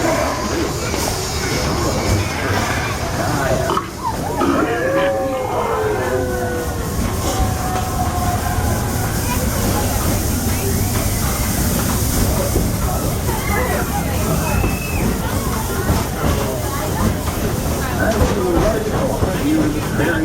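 The Walt Disney World Railroad train runs with a continuous loud rumble and clatter of rolling cars, while a narrator's voice speaks over the noise throughout.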